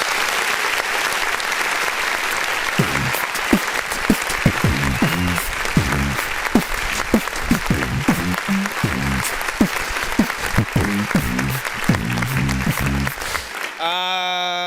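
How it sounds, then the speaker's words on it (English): Canned applause from a sound-effect button on a music review show: a loud, steady burst of clapping and crowd cheering running for about thirteen seconds, then cutting off abruptly. "Let me go over here and hit this button over here. Where this button officially makes me clap."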